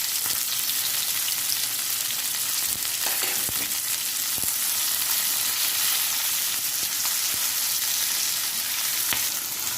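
Fenugreek and cubed capsicum fry in a pan with a constant, close sizzle, with occasional clicks and stirring knocks and no voices.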